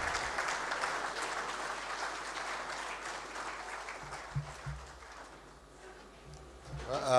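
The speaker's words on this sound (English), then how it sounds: "Please, let's keep the applause going until he makes his way to the podium." Applause at a Zenith Bank international trade seminar, a moderate, distant wash of clapping that gradually fades to a quieter lull, with a few thuds and a brief rise at the end.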